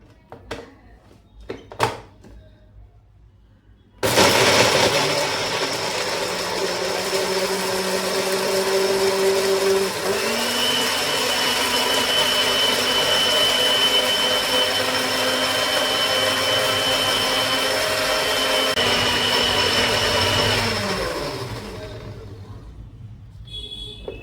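An electric grinder whirs steadily for about eighteen seconds, chopping ginger, garlic and a dried chilli; the motor pitch shifts midway as the contents break down, then it winds down, after a few clicks before starting.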